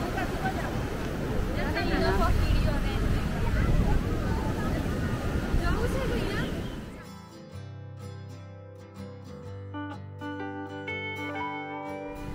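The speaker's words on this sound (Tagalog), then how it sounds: "Tingnan nyo yung waves dito. Ang lakas ng waves." Rushing waves and wind roar loudly at first, then give way abruptly to quieter tonal sounds with faint clicks.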